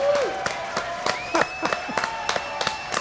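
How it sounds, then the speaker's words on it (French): Sparse, rhythmic claps ring out for Bébert the hornet on a French comedy radio show, a few hands striking in a slow, regular beat with light crowd noise and faint tonal sounds behind. "applaudissements pour Bébert le frelon"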